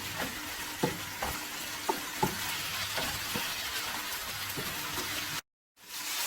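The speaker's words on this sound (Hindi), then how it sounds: "फ्लेम को भी आप मीडियम टू हाई रखिएगा ताकि आपकी ये चिकन अच्छी तरह से फ्राई हो जाए।" Chicken frying in a pan over a medium to high flame, a continuous sizzle broken by occasional spoon scrapes and taps, close and quiet, cutting off briefly near the end.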